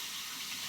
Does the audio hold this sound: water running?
yes